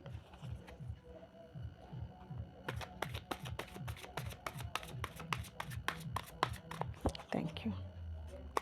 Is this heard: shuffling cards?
yes